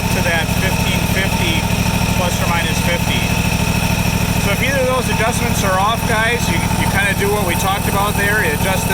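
John Deere GT235 lawn tractor engine at governed idle after a lean surge problem, a steady rumbling drone close by under continuous talking.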